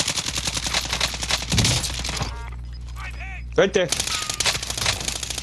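Gunfire in the video game Warzone crackles in loud rapid bursts, broken by a brief lull with ringing tones before firing resumes; a voice speaks briefly over it.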